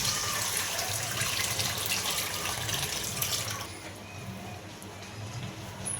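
Tamarind juice is poured into a pot of fish curry, giving a steady close gush of liquid that eases off midway into a softer trickle, with no voices.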